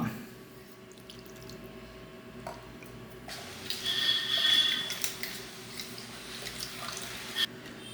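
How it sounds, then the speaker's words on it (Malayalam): Soaked tamarind being squeezed by hand in a bowl of water, soft wet squishing and trickling drips that grow busier midway, set against a quiet kitchen hum. "പുളി വെള്ളത്തിലിട്ട് വെച്ചത് അതൊക്കെ ഒന്ന് പിഴിഞ്ഞെടുക്കുകയാണ് അമ്മ"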